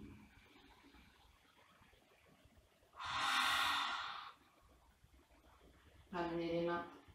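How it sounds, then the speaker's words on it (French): A long, deep exhale through the mouth during a vinyasa yoga session, a close breathy rush lasting about a second in near silence, followed a little later by a shorter voiced breath. "Et une profonde expire par la bouche."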